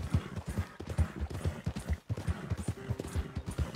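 A horse gallops across open ground, its hooves pounding out a fast, steady clip-clop rhythm close by, with no talking over it.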